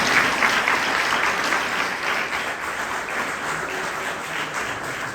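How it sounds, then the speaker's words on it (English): A reception crowd at Queens College claps steadily, a dense, even wash of applause that holds for several seconds with no voices over it. "Yeah, you can clap."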